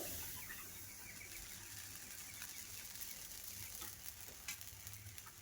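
Chitoi pitha batter sizzles and crackles in a small oiled wok, a soft, steady frying hiss with scattered pops, quiet and close.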